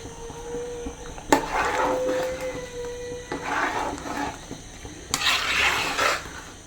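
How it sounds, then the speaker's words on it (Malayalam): Lubikka pickle bubbling and simmering in a pan, a soft steady boil with bursts of louder sizzling and stirring scrapes, close by with no talk. "നല്ലപോലെ തിളയ്ക്കട്ടെ"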